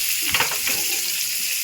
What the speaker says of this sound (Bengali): পেঁয়াজটাকে একটু ভাজবো